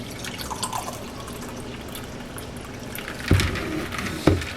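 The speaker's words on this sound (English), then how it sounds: "I'm going to go ahead and pour myself a glass" Fresh brewed iced tea poured from a pitcher into a glass, a trickling liquid pour with soft splashes, ending in two sharper clinks or splashes near the end.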